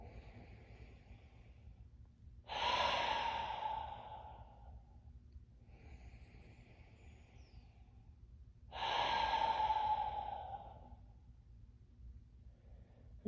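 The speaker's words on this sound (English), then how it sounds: "taking a nice deep breath in through your nose and exhaling out through your mouth" Two slow, deep breaths, each drawn in through the nose and then exhaled through the mouth as a long breathy rush, close and quiet over a low steady hum.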